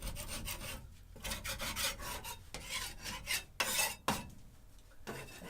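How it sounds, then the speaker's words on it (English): Droppings scraped off chicken coop perches in repeated rasping strokes with brief pauses between them, close and steady. "I'm going to just scrape any of the poo that's built up"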